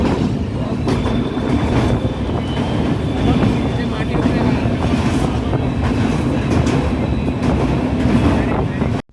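A passenger train rumbles and clatters steadily on its rails, loud and continuous from inside the carriage, with a low roar and rhythmic wheel noise that cuts off abruptly at the end.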